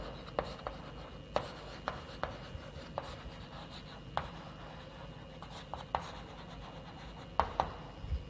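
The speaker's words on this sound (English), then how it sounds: "I will write 5 points." Chalk or marker writing points on a board during a computer science lecture, with a series of sharp taps and scratchy strokes at an irregular pace, fairly faint in a quiet room.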